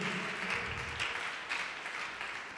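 A church congregation applauding during a sermon, a broad, moderate wash of clapping hands heard at some distance, steady across the moment with no voices on top.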